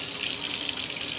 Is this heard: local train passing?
no